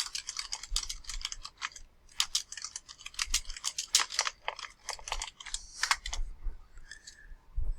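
Fingers type on a computer keyboard, producing close, quick irregular key clicks in short runs separated by brief pauses, with no one talking.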